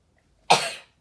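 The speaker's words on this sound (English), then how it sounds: "Oh, I think I'm going to sneeze." A single sharp, explosive burst of breath close up, like a sneeze, rising suddenly out of silence and fading quickly.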